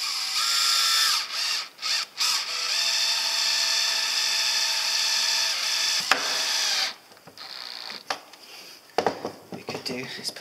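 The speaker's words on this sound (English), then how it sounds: "I'm just going to apply some pressure on that and then screw it in" A power drill whirs loudly and steadily while driving screws through a panel that boxes in a camper van wheel arch. It cuts out briefly a few times, then stops, leaving clunks and handling noises. A voice speaks at times.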